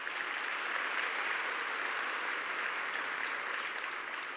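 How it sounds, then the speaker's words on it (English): An audience at the Dallas ISD school district convocation gives a continuous round of applause, dense steady clapping filling the hall at an even level with no talk. "Please give a round of applause for Dr. Lou Blackburn, First Vice President of District 5."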